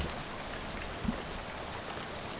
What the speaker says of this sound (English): soon you're dozing off to the sound of rains battering on the window beside you